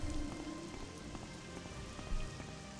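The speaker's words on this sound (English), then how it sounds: "Oh, it's raining." Rain falls in the open world of the video game Morrowind, a soft, steady patter of drops spread evenly through the whole stretch, moderately quiet with no talking.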